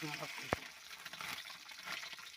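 Oil sizzles and crackles steadily at close range as lata fish fry, with a sharp clatter early on and faint voices in the background.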